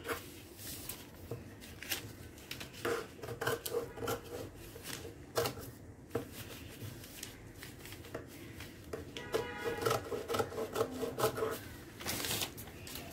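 Scissors cutting a paper blouse pattern, a quiet, close run of crisp snips and rustling paper in irregular bursts.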